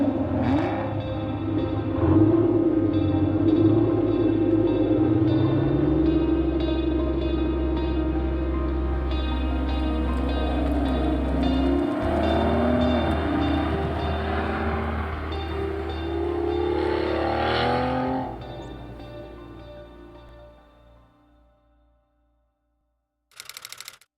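A Jaguar Zagato Shooting Brake with a V12 engine, a Special Operations car, rumbles deep and steady at close range for about eighteen seconds before fading away, ending with a brief late thump.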